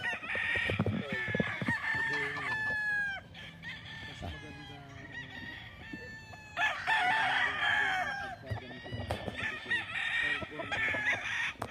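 Chickens on a big farm in the Philippines during vaccination, hens caged, crowing and clucking repeatedly close by, several overlapping calls with brief quieter gaps and a person talking faintly underneath.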